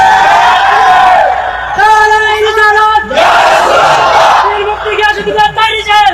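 A loud crowd chants slogans together in rhythmic, repeated shouted bursts of many voices, close and dense, with brief pauses between the calls.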